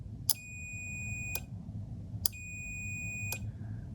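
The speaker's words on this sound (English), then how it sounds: "You can hear the multimeter beeping, therefore indicating that the circuit is closed, a short circuit." Two long, high electronic beeps from a multimeter continuity test, each about a second, separated by a short gap, clear and close over a low background hum.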